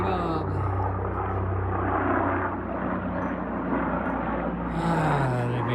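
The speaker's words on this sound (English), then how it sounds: "here comes a nice loud helicopter" A loud helicopter passes overhead, its broad rumbling roar filling the whole stretch steadily and close, with no talk over it.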